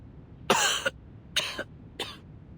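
Three harsh coughs with a rough, spluttering edge, each short burst separated by a brief pause, close by and loud against quiet.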